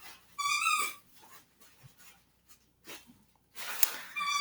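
A dog plays with its toy indoors, giving two loud, squeaky bursts near the start and end, with faint rustling and soft thumps between.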